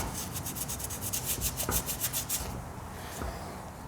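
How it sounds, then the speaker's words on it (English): A wet rag is rubbed back and forth over an engine part from a B20 VTEC build, making quick rhythmic swishing strokes up close that stop part way through. "I get my rag wet and I just wipe"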